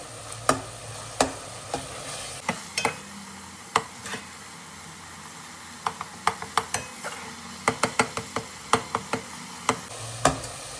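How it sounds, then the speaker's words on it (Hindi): Whole garlic cloves being stirred in a spoonful of cooking oil in a pan, with irregular clicks and taps of the spoon against the pan over a faint sizzle, no speech. "साबुत में ये जो लहसुन है इसको हम लोग इस तरह से मिक्स कर लेना है"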